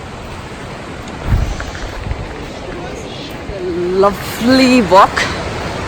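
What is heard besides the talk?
waterfall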